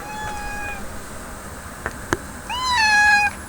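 A house cat meows close by, one drawn-out meow at the start and another louder, longer meow near the end, with a couple of sharp clicks in between and no talking.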